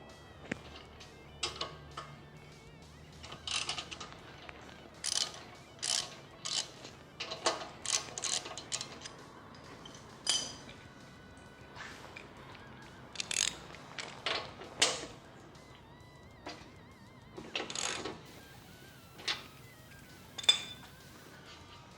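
Hand tools work on the front wheel axle of a 2016 Victory Cross Country motorcycle, giving scattered metallic clicks, ticks and clinks close by across the stretch, with no talking.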